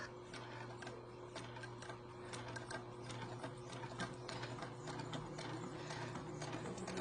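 A sewing machine stitches a small zipper bag of printed vinyl with a quiet, rapid, steady mechanical chatter that runs continuously at close range.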